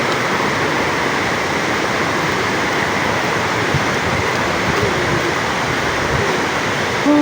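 A waterfall roars as a broad, steady wash of rushing water, loud and constant for several seconds with no break, unaccompanied by talk.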